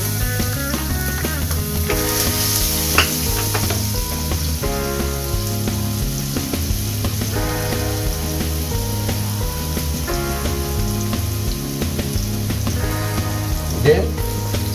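Chopped garlic sizzles steadily in hot cooking oil in a pan, a loud, continuous crackling fry with occasional stirring clatter. No voices are heard over it.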